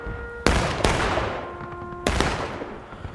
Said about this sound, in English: They're gonna start trading shots now.